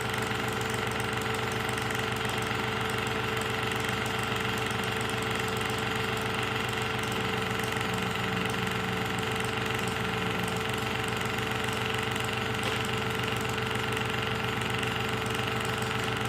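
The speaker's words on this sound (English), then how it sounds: "That's the noise of the compressor." A home beer machine's compressor hums steadily with a constant low mechanical drone and faint rattling, running without pause and no talking.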